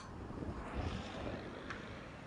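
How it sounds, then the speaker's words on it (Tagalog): Steady outdoor wind roaring and buffeting the microphone, a constant low rumble with gusty swells and no voices. "Ang lakas pa ng hangin."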